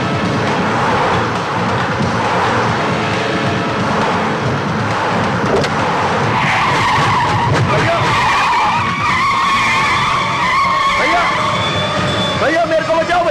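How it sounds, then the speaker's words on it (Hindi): A car pulls up with a long screech of skidding tires, heard in a dubbed Hindi action film amid dramatic music and sirens, with voices talking over parts of it. "ये नील की गाड़ी आ रही है।"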